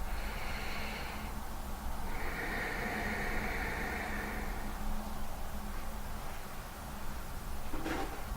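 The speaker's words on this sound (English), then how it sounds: "Breathe in deeply." Long, deep breaths during a hatha yoga session: a drawn-out airy inhale, a pause, then a longer breath, faint over a steady room hiss, with a short knock near the end.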